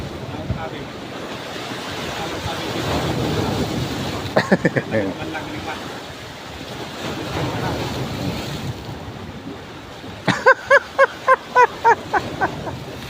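Ocean surf rolls steadily against the shore amid wind noise, a continuous broad wash that swells and eases, with brief voices calling out twice over it.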